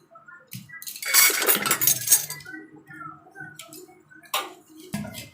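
Metal spoon clinking and scraping against dishes while egg toast is made, a scatter of light close clinks and taps with brief rattling, no talking.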